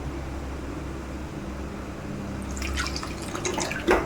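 Tamarind water is poured into a pot for a fish curry, starting as a soft trickle and building into splashing and dripping over the second half, heard up close over a low background hum.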